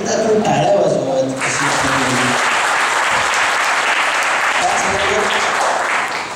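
An audience at a helmet-awareness campaign event applauds steadily, a dense, loud clapping that swells in after a brief stretch of speech and holds to the end.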